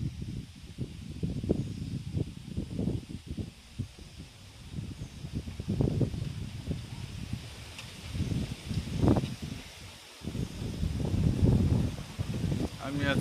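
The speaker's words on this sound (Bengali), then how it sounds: "কত সুন্দর বাতাস" Outdoor wind at Hosenpur roars in low, uneven gusts that rise and fall across the whole stretch, buffeting loudly and close.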